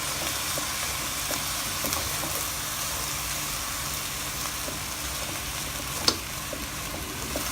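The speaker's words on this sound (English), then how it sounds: "Now we'll just let it saute for some time, and our fried rice, chicken fried rice, will be ready." Chicken fried rice with soy sauce sautéing in a pan, a steady close sizzle and crackle of frying oil throughout, with one sharp clink of a utensil near the end.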